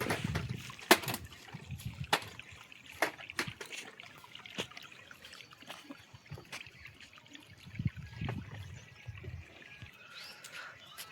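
Water from a BLDC motor pump pouring out of a two-inch pipe at medium pressure, a soft steady trickle and splash dotted with small irregular knocks and nobody talking.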